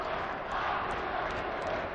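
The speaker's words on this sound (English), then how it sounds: "this Verona crowd again has certainly come to life again" A high school basketball crowd cheers and roars in a packed gym during a state finals game, a dense wall of shouting that stays loud throughout.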